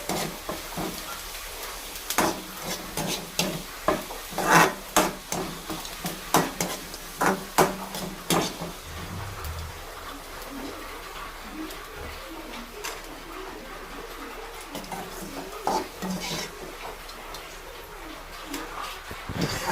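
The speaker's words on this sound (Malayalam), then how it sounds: "പപ്പടങ്ങള് ഇങ്ങനെ കുറേ വറക്കാണ് കേട്ടോ ചെയ്യണേ" Pappadams fry in oil in a pan, with crackling bursts and sharp clattering taps of utensils and cookware at an irregular pace, loud and close, with quieter sizzling between.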